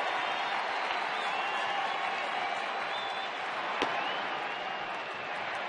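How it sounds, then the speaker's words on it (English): Crowd of baseball fans at a Cubs home game in Chicago against Arizona, a steady broad wash of distant cheering and murmur with faint whistles, one sharp crack near the middle. "Some of the fans cheering because Carlos Zambrano just got up."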